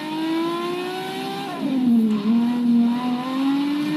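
A Ferrari 599XX revs in Forza Horizon 3 on a rainy Hot Wheels track, its loud, sustained engine tone climbing, dipping through a shift and rising again with a steady, high-pitched drone.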